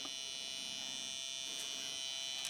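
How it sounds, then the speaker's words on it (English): Louder electrical buzz from an X2 Toys BG-A2 Big Computer (Teletraan 1) toy with a tablet plugged into one side, a steady, strong high-pitched whine running the whole time, alone with no voices. "If I plug the tablet into this side, the buzzing gets louder"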